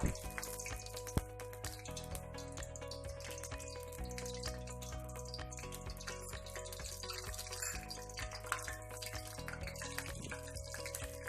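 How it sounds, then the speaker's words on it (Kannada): Mustard seeds and cumin crackling in hot oil for a North Karnataka tempering, a dense, continuous sizzle with rapid popping throughout, close and steady with no talk. "ಎಣ್ಣೆ ಚೆನ್ನಾಗಿ ಕಾದಾದ್ಮೇಲೆ ಸ್ವಲ್ಪ ಅದಕ್ಕೆ ಸಾಸಿವೆ ಮತ್ತು ಜೀರಿಗೆನ ಆ್ಯಡ್ ಮಾಡ್ಕೊಳ್ಳೋಣ"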